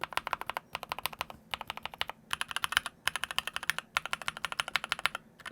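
Rapid typing on a mechanical keyboard with stock SP Star Marble Soda switches, clicky keystrokes in quick bursts separated by brief pauses, close and clear with no voices.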